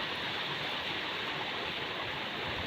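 The Tansa river in monsoon flood near the Uchat bridge rushes steadily, a dense, continuous roar of close, loud water with no let-up and no voices.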